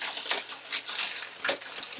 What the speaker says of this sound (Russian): Теперь лишний целлофан я обрезаю